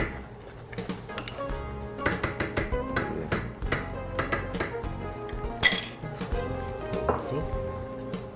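Butter being beaten into risotto in a pan, with repeated clanking and scraping of a utensil against the metal, irregular bursts of clatter close up over a faint sizzle.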